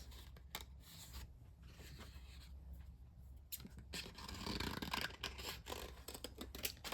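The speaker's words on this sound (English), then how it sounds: "maybe this pink color cardstock here, and cut a piece out like this." Scissors cut a piece from pink cardstock, making a close series of crisp, irregular snips and scrapes at a quiet level with no talking.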